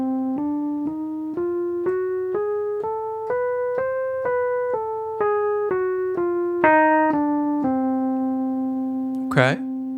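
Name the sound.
diminished scale played from concert C again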